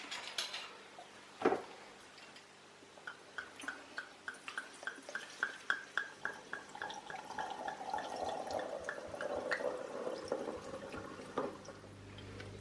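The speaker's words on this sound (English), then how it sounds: "So we are going to decant the wine through the aerator." Australian GSM red wine poured through an aerator into a decanter in a dining room: a glassy clink, then a quick run of rhythmic gurgling glugs that merge into a steady trickling pour, close and fairly quiet.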